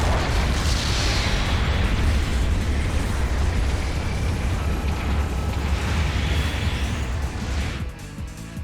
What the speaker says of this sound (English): An ally has destroyed an enemy mobile suit.